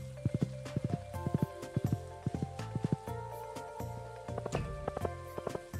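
Hooves of a horse clip-clopping at a steady walking rhythm in the farming game Stardew Valley, close and fairly quiet, with game chimes and tones layered over the footfalls and no talking.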